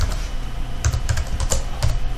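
Month names are typed on a computer keyboard into an Excel sheet, a close run of quick, light key clicks in uneven bursts.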